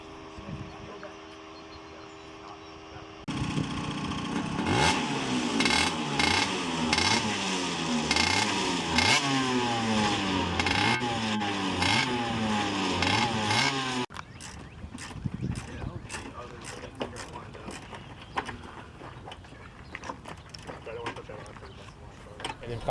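Racing go-karts drive on a private track, engines buzzing and revving with rising and falling pitch sweeps, loud and continuous, then shifting to a rougher rattling drone with scattered clicks.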